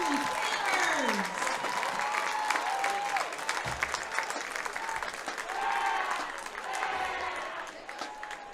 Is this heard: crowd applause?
yes